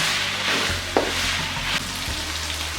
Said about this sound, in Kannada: ಒಂದು ಮೀಡಿಯಮ್ ಸೈಜಲ್ಲಿ ಇದನ್ನು ಫ್ರೈ ಮಾಡ್ಕೋಬೇಕು